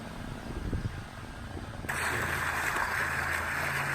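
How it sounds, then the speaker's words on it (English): Water splashing steadily from the Lucy Ellen Mallory Memorial Fountain at Lakeside, Ohio, beside Lake Erie, heard as a soft, continuous wash that swells noticeably louder halfway through. "The sound of splashing water with the azure Lake Erie in the background."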